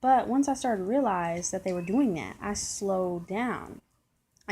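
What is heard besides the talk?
No everyday noise stands out behind the speech.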